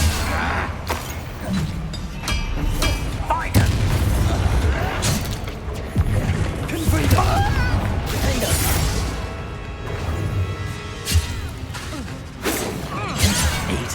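The Bombarda blasting spell goes off in Hogwarts Legacy, heavy booming explosions with crashing debris and whooshes amid loud chaotic combat sounds and shouted voices, dense and close.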